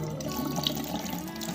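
Batik cloth made with gutta tamarind resist is rinsed under a running tap, a steady close rush of splashing water that continues without a break.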